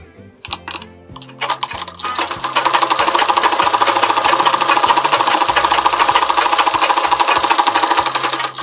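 A sewing machine stitching a lining blouse starts with a few short bursts, then runs into a fast, steady, closely miked chatter of stitches.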